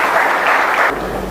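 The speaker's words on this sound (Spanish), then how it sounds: "Denle un fuerte aplauso al Señor." Audience applause at a church service, a dense steady clapping that fills the space and thins slightly toward the end.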